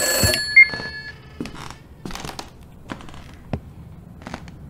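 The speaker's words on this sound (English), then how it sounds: "Let's answer the phone." A telephone rings in the horror video game Summer of '58, one short bright ring burst at the start, then sparse clicks and thuds in a quiet room.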